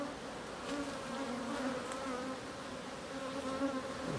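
A soft, steady hum of many honey bees buzzing together around a hive, fairly quiet and continuous, with no voices.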